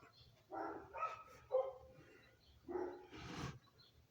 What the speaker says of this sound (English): More like some neighbor dogs.